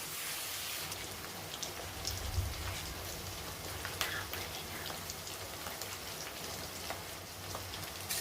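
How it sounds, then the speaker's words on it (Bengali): Paneer fries lightly in a pan with a soft, even crackle of sizzling oil, faint and unbroken throughout, with small pops scattered over it. "বন্ধুরা আমার পনিরটি হালকা করে ভাজা হয়ে গেছে"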